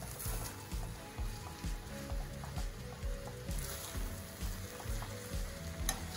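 Veg hakka noodles sizzle loudly in a hot pan as chopped spring onion greens are mixed in, with repeated rhythmic stirring scrapes over a continuous frying hiss.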